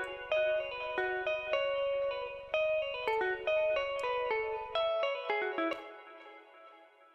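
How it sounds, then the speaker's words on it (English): Clean electric guitar notes are picked one by one through the Guitar Rig 6 reverb plugin, each tone ringing out with a lush tail that blooms and overlaps before the final chord decays into silence. "So here you have the room size, the decay, damp, whatever, just like your regular reverb."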